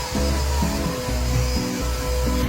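A household vacuum cleaner runs steadily across a floor, its motor drone continuous and close, with no voices.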